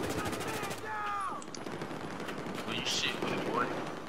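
RPK-12 light machine gun firing in Battlefield 4: a rapid burst of automatic fire at the start, then quieter distant shots and game effects, with a voice talking over part of it.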